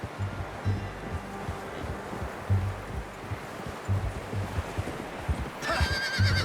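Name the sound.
horse neighing, from video game Red Dead Redemption 2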